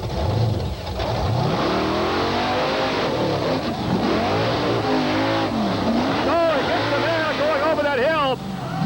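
The Bigfoot monster truck's big engine roars and revs as it negotiates a tight dirt course at a 1989 Indianapolis 4-wheel and off-road jamboree, loud and continuous with rising and falling pitch, while an announcer talks over it throughout.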